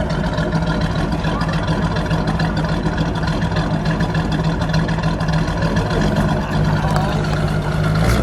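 A 1959 Ford Fairlane 500 Galaxie convertible engine runs loud and close in a steady, dense roar that holds an even level throughout without a clear rev swell.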